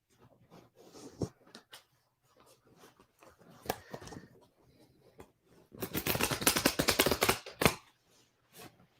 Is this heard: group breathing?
no